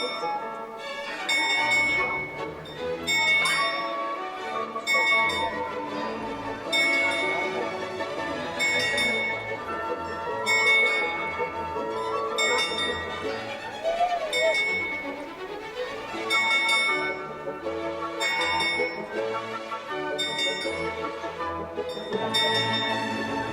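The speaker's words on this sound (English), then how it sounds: "Every hour, a skeleton to the side of the top dial rings a bell" Bells ring from the Prague astronomical clock, where a skeleton figure beside the top dial strikes the hour; bright metallic strikes repeat in an irregular rhythm over a murmuring crowd in the square.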